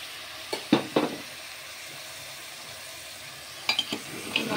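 Onion, garlic and ginger paste sizzles faintly in a pan for mutton curry with vegetables, with a few stirring clinks and scrapes early and late over a steady low frying hiss.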